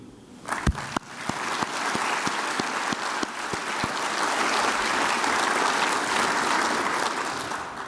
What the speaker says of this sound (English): If you'll please join me in a round of applause for the great work they've done and all they will certainly continue to do.